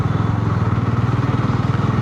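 A Bajaj Dominar 400 motorcycle rides through peak traffic in fourth gear at moderate speed, its engine giving a steady, close, throbbing drone that holds evenly throughout.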